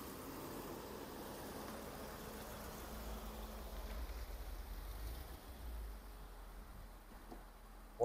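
A 1982 Rolls Royce Silver Spirit with 74k miles drives along, its engine a low, steady, muffled hum heard from inside the car, rising slightly midway before easing off.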